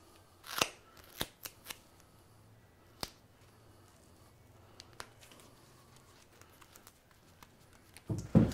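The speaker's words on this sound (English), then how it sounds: "Scissors." Several crisp, sharp snips of scissors spaced irregularly, with quiet gaps between and a louder rustle at the end, while cutting a shoe pattern.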